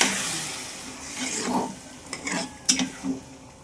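Balado spice paste with added water being stirred in a wok, giving soft scraping and light clinks of a utensil against the pan over a faint bubbling, close but fairly quiet.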